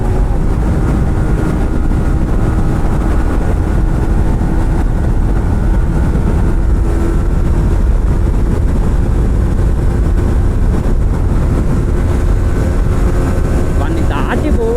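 A Yamaha motorcycle rides along a road, its engine droning steadily with rushing wind noise close to the microphone for the whole stretch.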